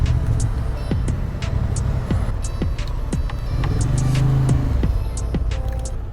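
Honda Hornet CB750 twin-cylinder roadster, a 2023 model, on a ride: a steady engine drone with throbbing low rumble and slight rises in revs, heard amid road and wind noise throughout.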